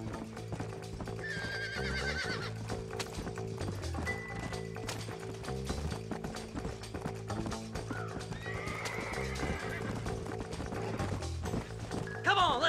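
Hooves clatter in a fast galloping rhythm as horses pull a wagon in the game Red Dead Redemption, neighing and whinnying now and then, with a voice speaking over the steady pounding.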